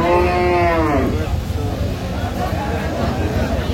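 A cow lows loudly and close at the Aftabganj livestock market in Dinajpur, a single drawn-out moo lasting about a second, followed by a steady crowd hubbub of voices and market noise.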